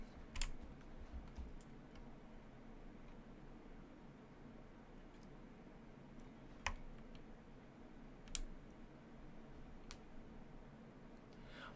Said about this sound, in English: whenever I click the keyboard